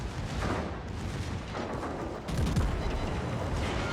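A German cruiser in World of Warships fires a heavy broadside, loud booming gun blasts rolling into one another with dense rumbling, then a second strong volley partway through, no talk.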